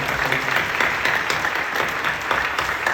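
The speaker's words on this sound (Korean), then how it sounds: "힘내시고 또 하나님이 도우실 것을 믿으며 박수를 격려해 주시죠." A church congregation at a worship service claps in encouragement, a dense, steady round of applause that fills the room with no voices over it.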